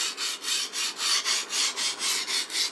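A sashimi knife blade is rubbed flat back and forth across a whetstone, producing about ten even, rhythmic scraping strokes, close and moderately loud with no voices.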